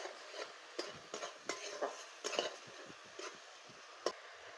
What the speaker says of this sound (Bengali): স্বাদ মতো লবণ দিয়ে এটা ভালো করে কষিয়ে নেব।